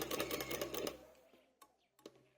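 A sewing machine stitching fabric, heard as a close, rapid rattling run that stops after about a second, followed by a quiet pause and a couple of faint clicks.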